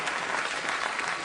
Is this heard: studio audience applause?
yes